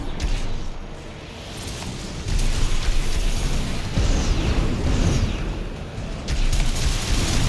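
Siege missiles bursting in Armored Core 6: Fires of Rubicon, a dense, continuous roar of heavy blasts and rumbling booms with several surges, loud and near, in a busy combat din.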